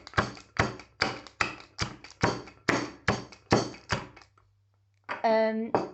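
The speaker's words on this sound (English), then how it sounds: "So you get your rolling pin and then you just literally bash it." A rolling pin bashes chocolate flakes, ten sharp, evenly spaced thuds in quick succession, loud and close, followed by a short pause and a brief crinkly rustle.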